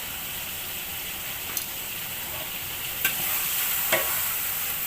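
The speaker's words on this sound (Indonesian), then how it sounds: "dicampur, dimasukkan berbarengan sambil digoreng tomat" Tomatoes fry in a pan for sambal pecel lele, with brown sugar mixed in. A steady close sizzle runs throughout, with a few sharp stirring clinks and scrapes.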